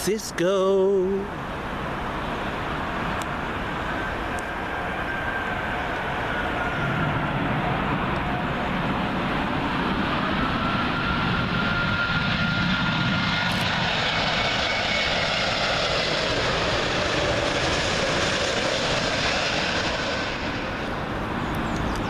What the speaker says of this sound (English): British Airways A380 coming in from San Francisco.